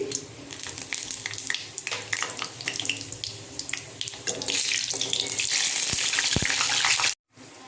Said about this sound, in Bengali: এখানে 5 ফোড়ন নিয়েছি আর 2টো শুকনো লঙ্কা দিয়ে দিচ্ছি।